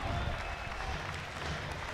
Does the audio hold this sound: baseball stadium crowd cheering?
yes